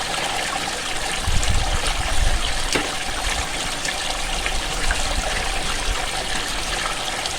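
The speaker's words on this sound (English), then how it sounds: "The whole idea of the riffles and the mat inside a sluice is to slow down the flow of the water and create turbulence" Water running through a gold highbanker sluice built from scrap, flowing steadily and trickling over riffles and a mat, with a few louder splashes and gushes near the start, up close with no talking.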